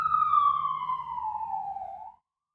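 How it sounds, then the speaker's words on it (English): A siren sweeps downward in pitch as it drives past, loud at first, then fading before cutting off into silence. "Let the siren pass."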